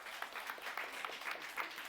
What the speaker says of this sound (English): So round of applause for our lucky winners.